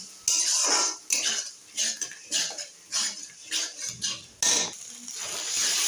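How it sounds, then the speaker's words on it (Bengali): A spoon stirs a thick taro paste chutney in a pan, giving a series of close scraping and clinking strokes in an uneven rhythm, with faint sizzling underneath. "এবার এটাকে ভালো করে নাড়াচাড়া দিব।"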